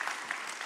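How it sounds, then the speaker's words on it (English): An audience breaks into brief applause, a dense wash of clapping that swells and holds for under a second. "Let's give them a round of applause, shall we?"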